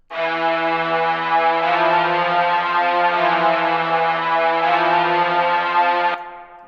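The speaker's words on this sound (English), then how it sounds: "this is the first string sound. This is like the slow strings" A slow synthesized string pad for a phonk beat holds rich, sustained chords at a steady, full volume with minimal effects, then stops abruptly near the end.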